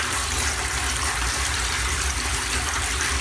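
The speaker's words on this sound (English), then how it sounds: "it's the water's filling up on it" Water gushes steadily as it fills a bath in a newly fitted bathroom, a continuous rushing flow heard alone and fairly close.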